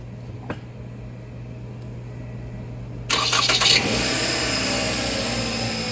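A 2013 Toyota RAV4 with a loose battery terminal cranks and fires up after a quiet pause, its engine catching abruptly and settling into a steady, close idle.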